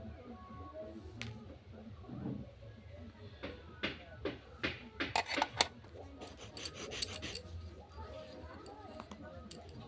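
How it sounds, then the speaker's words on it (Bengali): Sandalwood being ground into paste on a stone for a Kali puja, a rough rhythmic rasping and rubbing close by, with intermittent sharp strokes building in the middle. "চন্দনটা বেটে নিলাম"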